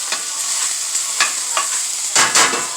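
Salmon croquettes fry in a skillet with a steady bright sizzle and crackle, punctuated by a few louder spits and stirring scrapes, close and without speech.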